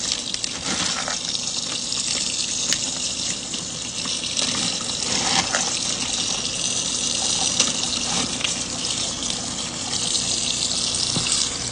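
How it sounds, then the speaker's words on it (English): Tap water runs steadily over pinto beans being rinsed, giving a loud, continuous gushing splash that holds at the same level throughout with no one speaking. "Give them a good rinse."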